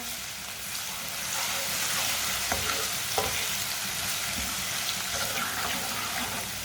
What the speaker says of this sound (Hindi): 1 चम्मच कुटा हुआ लहसुन डालेंगे। लहसुन को भी 1 मिनट के लिए पका लेंगे।